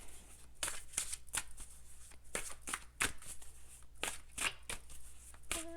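Tarot cards are shuffled close by in a run of quick riffling bursts and soft slaps at an uneven rhythm, with faint room hum between them and no voices.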